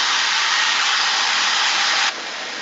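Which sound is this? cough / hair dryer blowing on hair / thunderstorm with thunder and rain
hair dryer blowing on hair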